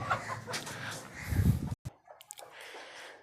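A broody hen clucks inside a cage, giving a few close, soft clucks and low throaty murmurs, then a brief silence followed by faint rustling and scattered quieter sounds.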